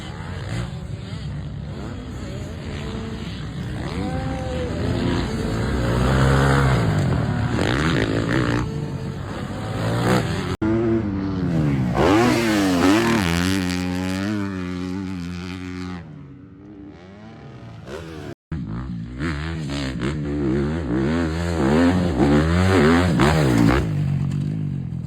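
Suzuki motocross motorcycle riding a dirt training track, its engine revving and rising and falling in pitch through gear changes, loud and continuous with a brief cut near the end.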